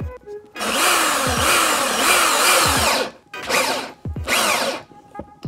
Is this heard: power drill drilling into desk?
yes